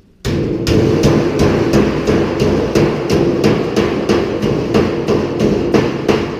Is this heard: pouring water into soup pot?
no